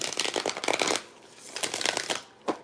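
An Isis Oracle card deck being shuffled up close, two bursts of riffling cards separated by a short pause, then a single soft tap of the deck.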